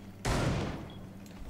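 A sudden loud burst of rapid gunfire in Rainbow Six Siege, a sharp onset followed by a dense rattling volley that tails off over about half a second, with no talking.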